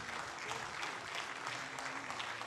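An audience applauds three athletes at a Panathlon Day ceremony in Venice, a brief even burst of many hands clapping in a hall, fairly quiet and distant, no voices.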